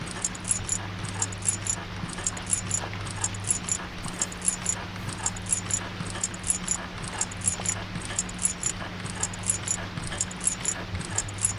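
In the horror video game White Day, a janitor's keys jingle steadily with each step as he walks, a soft, regular metallic patter repeating throughout over a low droning hum.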